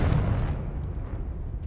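A Confringo blasting spell going off in Hogwarts Legacy, one heavy booming blast that rumbles loudly and then decays over a couple of seconds, with no talking.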